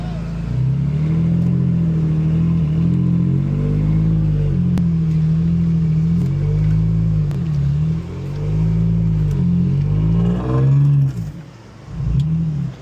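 A truck engine idles with a low steady rumble under light throttle, revving up briefly near the end before dropping off, with voices talking over it.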